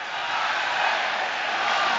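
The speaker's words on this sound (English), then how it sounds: "Another massive crowd at Old Trafford." A huge football stadium crowd at Old Trafford, about 75,000 strong, roars in a continuous, distant wash of massed voices during Manchester United versus Southampton, steady and loud throughout the short stretch.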